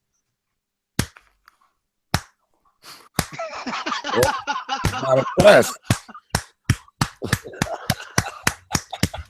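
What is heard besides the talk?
slow clap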